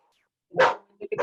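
A small female dog gives one sharp bark and then two quicker yips, close and clear against silence.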